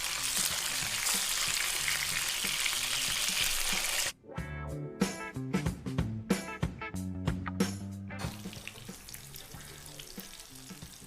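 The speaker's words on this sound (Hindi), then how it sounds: "अब हमारी क्रिस्पी फ़िश फ्राई बनकर तैयार हो चुकी है" Crispy masala fish fries in hot oil, giving a loud, steady, close sizzle for about four seconds. It then cuts to lighter clinks and tonal knocks with a fainter hiss.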